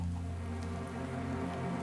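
Steady rain falling in a Minecraft-style video game world, a continuous even wash of drizzle noise with a low hum underneath, no voices.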